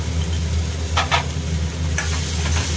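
Coriander powder, garam masala and chilli powder being mixed into Khandeshi-style soybean chilli as it fries: a constant close sizzle with two or three quick scraping stirs of a spatula, no voices.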